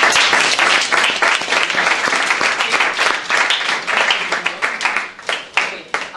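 A class gives a round of applause, a dense burst of clapping that holds steady and then thins into scattered claps as it fades.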